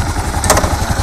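A Kawasaki KL650E motorcycle engine fires up and settles into a steady, rhythmic idle, close and loud, with a brief burst of clatter at the start.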